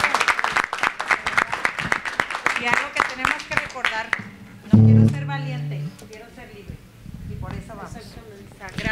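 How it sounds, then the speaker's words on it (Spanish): Clapping at a Spanish-language book presentation, scattered claps under a talking voice at first, then brief music and a short burst of mixed crowd sound. "Pues le damos un aplauso, muchas gracias."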